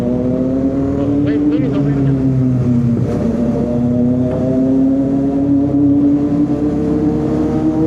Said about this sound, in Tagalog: Sarap talaga ng tunog ng inline 3.